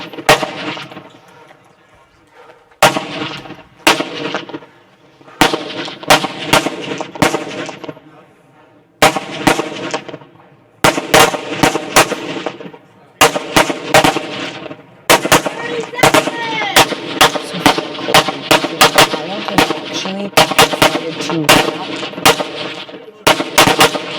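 Rifles fire at the shooting stage of a national-level elite competition, with loud, sharp shots cracking in irregular bursts and dense overlapping volleys, some ringing out alone after brief gaps.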